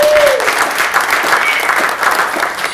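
An audience at a holiday music showcase breaks into steady, loud applause for a performer, a dense wash of clapping that holds for a few seconds.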